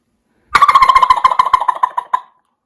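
A mouth call imitates a turkey gobble: one loud, close, rapid rattling burst of about twenty pulses lasting under two seconds, trailing off into silence.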